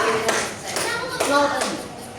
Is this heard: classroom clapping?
yes